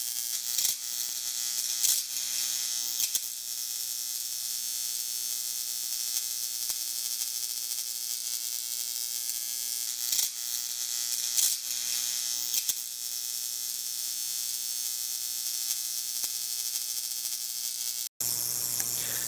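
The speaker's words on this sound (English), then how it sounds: "This here is the Tesla hairpin circuit with a really small spark gap." A small millimeter spark gap in a Tesla hairpin circuit with two Leyden jars buzzes in a continuous harsh electric drone, steady and close for the whole span, cutting off abruptly near the end.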